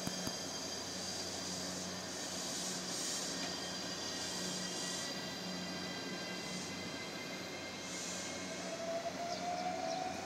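A local down train pulling out of a small seaside station, a steady low rumble of wheels and motors with a faint rising tone, heard from a distance without voices.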